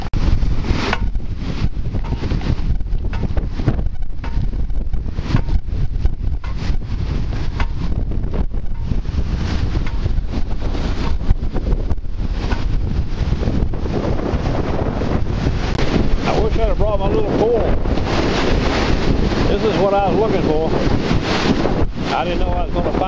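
Strong storm wind blows on a beach, roaring steadily into the microphone for the whole stretch, with surf churning underneath and no pause in the gusting.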